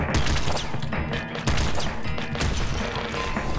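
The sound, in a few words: explosions in video game Nuclear Throne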